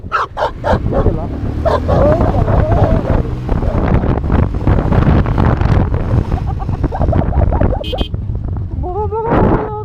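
Dogs by a roadside on a windy mountain route between Tawang and Bumla Pass bark and yip close by. Heavy wind buffets the microphone throughout, and voices talk over the barking.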